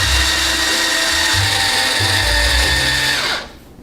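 A power drill drives a screw into a wall stud, whirring loudly and steadily for about three seconds with the pitch wavering under load, then winding down and stopping; no voices.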